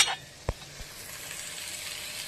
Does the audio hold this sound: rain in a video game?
no